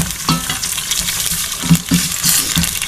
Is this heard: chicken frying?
yes